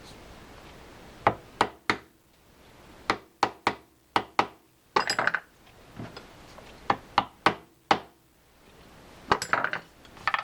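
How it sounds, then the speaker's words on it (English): Sharp metallic taps of a pin being knocked into a Penn Senator 9/0 fishing reel during a rebuild, struck in irregular bursts of single and double hits, close and crisp with quiet gaps between them. "So we'll just grab the pin that I used to knock it out before,"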